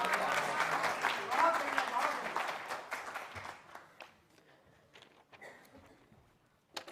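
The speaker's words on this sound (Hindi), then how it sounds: "इतनी कम तालियां नहीं, मेरा मन है कि एक बार और जोरदार तालियां हों" Audience at a Hindi poetry gathering (kavi sammelan) breaks into loud, dense applause that thins out to scattered claps and fades into near silence over several seconds.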